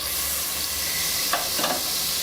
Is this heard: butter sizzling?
yes